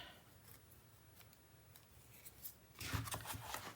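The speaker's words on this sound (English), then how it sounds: "just trim that just a smidgen" Scissors trimming paper for a mini album page, faint crisp snips close by with a louder cut near the end.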